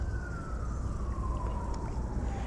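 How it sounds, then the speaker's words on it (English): A police siren in the city wails from a distance, one long slowly falling tone, faint over steady outdoor background rumble. "this is like the first time I've heard the sirens when we fish"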